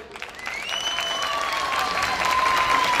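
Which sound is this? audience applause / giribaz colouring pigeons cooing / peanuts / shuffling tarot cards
audience applause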